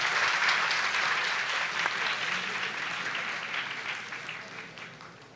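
A school audience at an inter-school finals event claps and cheers in a dense, sustained burst of applause that gradually tapers off.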